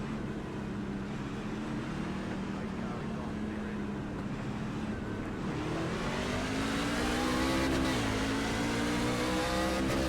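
A race truck in the iRacing NASCAR Truck Series video game revs its engine steadily, and the engine climbs toward the end with a wheelspin whine. A faint voice may sit under it.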